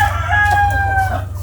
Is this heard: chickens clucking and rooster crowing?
yes